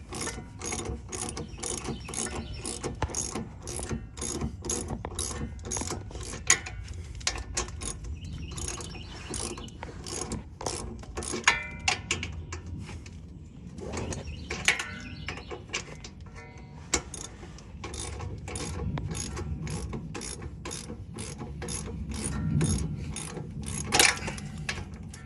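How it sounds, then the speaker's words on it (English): Hand ratchet tightening a bolt on a front shock of a 2008 Dodge Durango 4WD, a long run of quick, regular clicking strokes, close and steady, with brief pauses between bursts. "just tighten it up with my ratchet"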